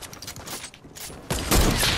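Gunfire in the video game Fortnite, a dense fusillade of rapid shots that grows louder and heavier in the final second.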